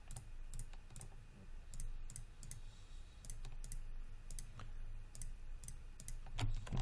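Computer keys and mouse buttons clicking in scattered short bursts during 3D modelling work in Maya, close and fairly quiet, with no talk.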